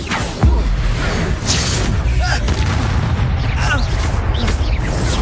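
An Exploso spell explosion in Hogwarts Legacy, a single deep boom near the start followed by rumbling blast effects and busy game sounds.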